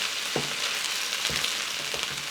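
Fried cabbage and potatoes with bacon sizzle steadily in a pan while a utensil stirs through them in three slow, scraping strokes, close and clear with no talking.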